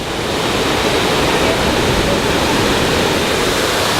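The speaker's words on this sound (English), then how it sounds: "This is Datanla waterfall in Dalat," Datanla waterfall in Dalat, Vietnam, pours in a loud, steady, full-bodied roar of rushing water that fills the scene without a break, heard from close by.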